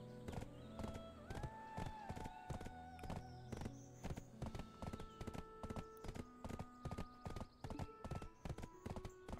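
Donkey hooves clip-clopping in the video game Black Desert Online, a steady run of crisp close hoofbeats with a faint whinny early on.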